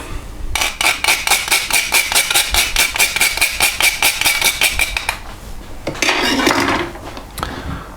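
A spoon scrapes and taps steadily around a pan of béchamel sauce with nutmeg and Parmesan, a fast regular rhythm of close metallic clinks for about five seconds, followed by a brief sizzling clatter.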